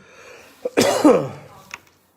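A single harsh, close cough with a short rasping burst, followed by a brief throat sound and then quiet.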